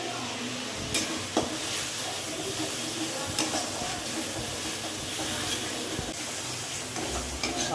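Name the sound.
masala being stirred and fried in a pan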